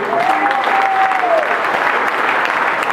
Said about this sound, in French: je voudrais qu'on puisse applaudir encore une fois le comité jeunesse Moutoto